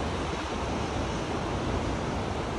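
Takakkaw Falls, a tall waterfall in British Columbia, roars as a constant, dense rush of falling water with no pauses and no speech.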